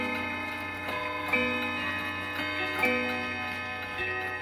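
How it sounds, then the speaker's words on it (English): A Depression-era Plymouth clock with an 89 IL quarter-striking movement ticks steadily, with a couple of louder chime-like strikes ringing out over a sustained hum from other clocks nearby. "It has an 89 IL movement in it that features quarter striking"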